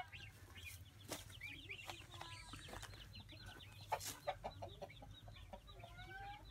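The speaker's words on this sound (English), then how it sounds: "There's a few chickens." Several chickens cluck and chatter in short bursts, with other birds calling faintly over a low steady farmyard hum.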